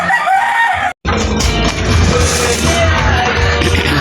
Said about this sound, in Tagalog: samahan nyo ako magpatok ng mga kamanok